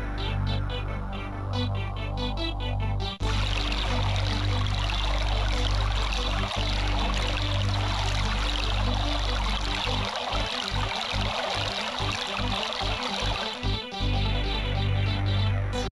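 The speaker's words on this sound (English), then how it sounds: "I'll wash the monster off the wall with water." Water sprays steadily against a wall in a children's science video game, a continuous hissing gush over looping background music, with a rhythmic pulsing beat joining toward the end.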